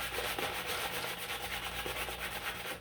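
Hand sanding the grooves of a plastic Nerf gun prop, a continuous close, dry rubbing scrape with a faint back-and-forth rhythm, heard alone.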